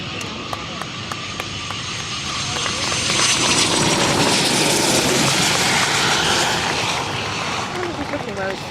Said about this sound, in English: That's Eurofighter.